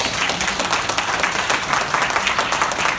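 A crowd at a Marvel comic con panel breaks into a dense, steady wash of applause that holds at full strength for the whole stretch, with no speech on top.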